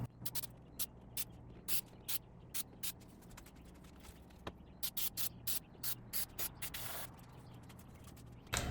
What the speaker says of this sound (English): Now we have to spray glue on the metal part as well.